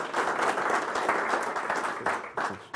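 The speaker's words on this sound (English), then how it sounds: "give David a round of applause" A conference audience applauds at an energy industry event, steady close clapping from many hands for a few seconds without talk.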